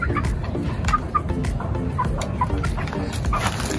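Young native heritage chickens cluck in an open outdoor setting, with soft repeated clucks and chirps close by over a dense, steady rustling background.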